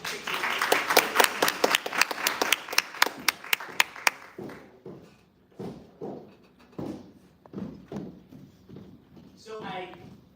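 A small group's round of applause after a flute performance, with distinct, fairly rhythmic claps for about four seconds before the clapping thins out under people talking.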